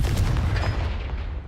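Confringo spell blast from Hogwarts Legacy, a loud booming burst with deep low-end weight and a short trailing rumble that tapers off quickly.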